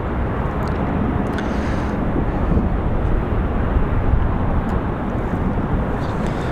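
A Delta airliner arriving at Raleigh-Durham airport, heard as a steady, loud, broadband jet roar that holds evenly throughout with no gaps.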